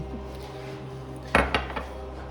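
A spoon stirs toasted pilaf in a pot over a steady kitchen hum, with one clear clank against the pot followed by two softer scrapes.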